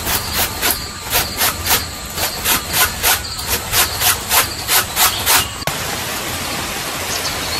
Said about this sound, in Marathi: तर अशा प्रकारे मी ह्या सगळा तवसा किसून घेते